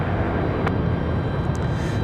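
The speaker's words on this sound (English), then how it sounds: "Got a Delta out at the end of the runway, cleared for takeoff. That's going to be that A220." A Delta Airbus A220 jet rolls for takeoff at Raleigh-Durham airport, giving a steady, broad engine roar that holds loud and constant throughout, with no voices.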